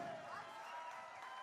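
A concert audience applauds a guest trumpet player, a brief wash of clapping from the crowd heard at a distance with a voice faintly underneath.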